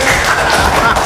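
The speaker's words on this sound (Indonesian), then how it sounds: "tepuk tangan" A crowd at an Indonesian gathering gives a burst of hand clapping: dense, steady, fairly loud applause that fills the whole moment without a break, with no clear voice over it.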